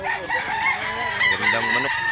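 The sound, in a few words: Hennie Chocco rooster crowing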